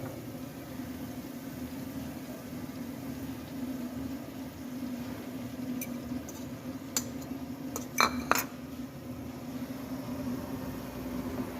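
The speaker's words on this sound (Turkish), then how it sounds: "Şimdi yumurtamızı kırıyoruz" Eggs being cracked for breakfast in a home kitchen: a few quick, light taps and crisp cracks in a short cluster over a steady background hum, with quiet stretches before and after.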